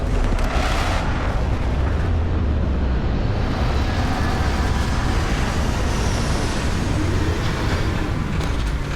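Retro rockets on a spaceship roar continuously during a landing in the Starfield video game, a loud, dense rumble with no break across the whole stretch and no talking.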